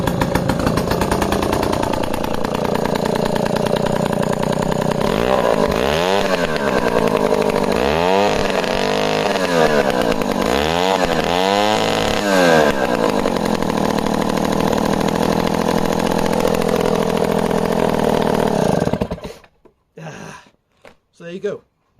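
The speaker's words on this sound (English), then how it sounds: "Small, lightweight petrol Kettensäge chainsaw" A 1950s Stihl BLK small, lightweight petrol chainsaw runs steadily close by, buzzing loudly with several rising-and-falling revs, then cuts off to silence with a few sputters, while someone talks over it.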